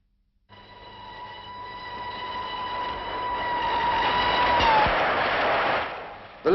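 A steam locomotive on a British railway runs steadily, its broad rumble swelling louder while a sustained whistle-like tone holds above it before fading into a rushing roar near the end.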